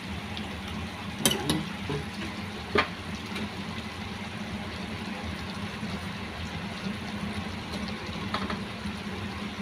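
Sliced ampalaya (bitter gourd) fries in a pan with a steady, soft sizzle and a few clinks of the utensil against the pan.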